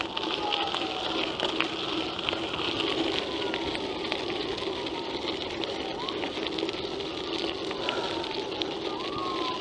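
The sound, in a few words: ambulance siren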